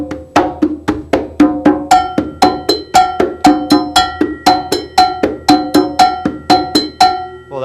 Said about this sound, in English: let's play conga with one hand and play cowbell with the other one.